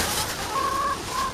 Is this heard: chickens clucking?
yes